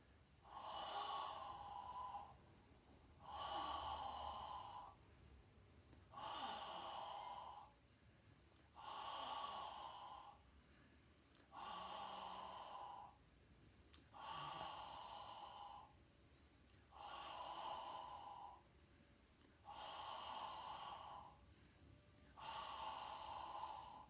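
Slow, deliberate breaths during a relaxation breathing exercise, about nine evenly spaced inhale–exhale cycles with soft pauses between, close and fairly quiet with no talking.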